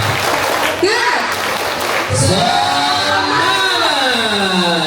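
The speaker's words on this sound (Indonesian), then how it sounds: "Tepuk semangat" Elementary pupils at a school orientation week doing a chanted rhythmic clapping cheer, their hand claps blending into group chanting and shouting voices in a lively, loud classroom.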